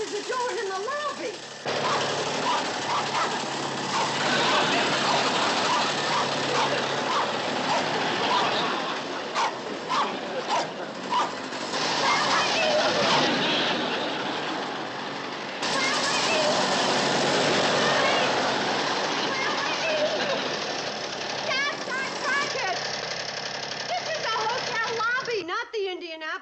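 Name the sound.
motorbike engine running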